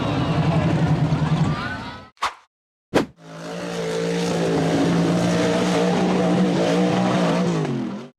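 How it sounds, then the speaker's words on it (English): An off-road buggy engine revs hard as it climbs a steep concrete incline, a loud sustained roar that cuts out briefly with two sharp bursts before surging back steadily and close. "The buggy accelerated up the steep concrete incline"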